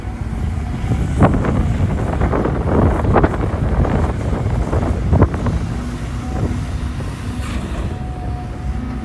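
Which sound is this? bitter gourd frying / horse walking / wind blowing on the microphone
wind blowing on the microphone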